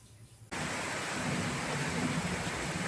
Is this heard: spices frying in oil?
no